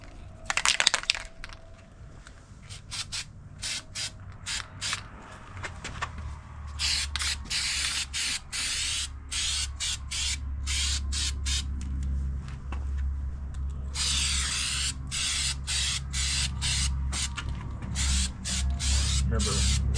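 Bed liner being sprayed as a second coat onto a Suzuki Grand Vitara plastic panel: repeated hissing spray bursts, some short and some held for several seconds, close by over a low steady hum.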